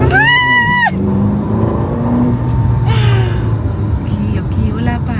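Inside a Ferrari on a drive toward Los Angeles, a steady engine drone and road rumble run throughout while people talk over it.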